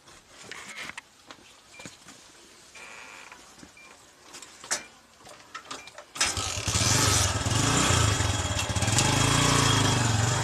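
A motorcycle is started after some faint clicks and handling noises, then its engine catches and runs on at a loud, steady idle close by.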